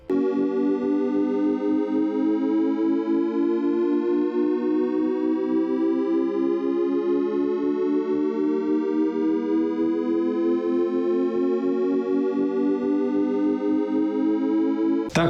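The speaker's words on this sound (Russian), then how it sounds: "При монтаже для определенных моментов используют тон Шепарда." A Shepard tone audio illusion: a layered, buzzing tone whose stacked pitches glide steadily upward without ever seeming to arrive, sustained and unbroken for the whole stretch.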